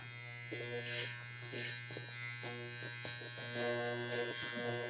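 Electric hair clipper buzzing during a men's old school pompadour haircut, a steady close hum with soft scraping as it works the sides near the sideburns, while a voice talks over it.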